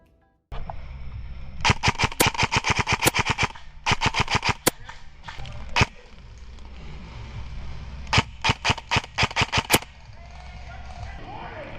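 Airsoft guns fire on an outdoor airsoft field in rapid bursts of sharp, close snapping shots. Short volleys are broken by brief pauses, with one isolated shot in between, over a steady background hiss.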